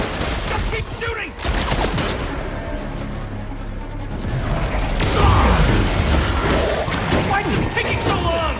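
Gunfire in the video game Spider-Man 2, loud rapid bursts and crackling shots mixed with mechanical clatter and impacts, with voices shouting over the din throughout.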